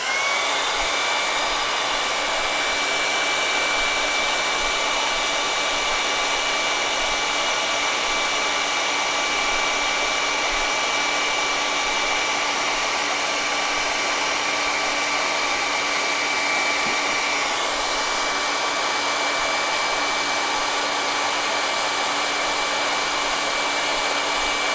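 Hair dryer blowing steadily at full power to dry a watercolor-style ink painting, a loud continuous whooshing roar with a constant motor whine that holds unchanged for nearly 25 seconds, no voices over it.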